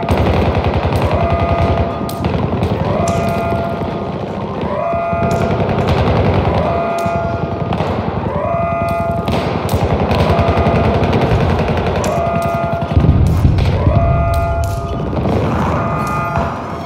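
Sustained automatic gunfire and bursts in the shooter game Battlefield 2042, loud and close, with rapid repeated shots and overlapping weapon fire throughout, plus occasional thuds and crashes.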